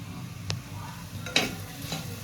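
Curry leaves dropped into a hot frying pan for a taro-stem curry crackle and sizzle quietly, with a few brief sharp bursts over a low background hiss.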